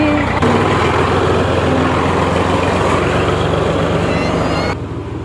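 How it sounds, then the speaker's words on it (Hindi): A tractor pulling a trolley rumbles past at close range, a loud heavy engine roar and rattling load that holds steady, then drops away sharply near the end. "दोस्तों ट्राली जा रही है माशाल्लाह देख सकते हैं आप लोग।"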